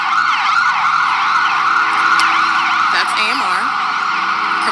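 An ambulance siren wails steadily and loudly throughout, its rising and falling tones close by and continuous, with no talking over it.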